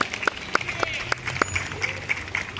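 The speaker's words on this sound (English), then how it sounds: "Let's give them a big round of applause to start them all off." Sea lion show audience at a zoo claps, the sharp hand-clap bursts spaced and uneven, moderately close over a soft bed of crowd murmur.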